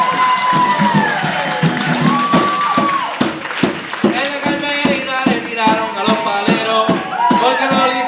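Audience at a Puerto Rican jíbaro music night claps and cheers to welcome a music group, dense applause with shouts and whistles rising and falling over several seconds.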